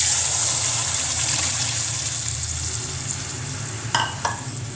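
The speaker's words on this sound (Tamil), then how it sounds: "ஆட் பண்ணிவிட்டு இதை வந்து நல்லா மிக்ஸ் பண்ணி விட்டுருவோம்." Ground paste for a chana dal gravy added to a frying pan and mixed, a loud hissing sizzle that slowly fades, ending with two brief metallic taps of a spoon.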